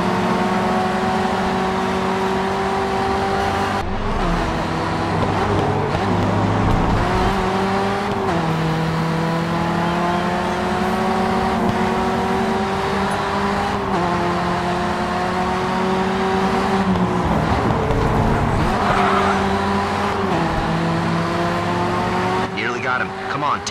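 Alfa Romeo 4C race car engine in the racing game GRID 2, Barcelona Cathedral Pass circuit, droning loud and steady throughout with rising and falling pitch as it shifts gears, alongside occasional tire noise and in-game voice.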